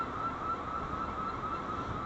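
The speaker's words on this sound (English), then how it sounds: "some more fake siren going on here" A siren wails steadily outside, a continuous tone set against a broad, noisy wash of traffic-like background sound, fairly loud and with no talking.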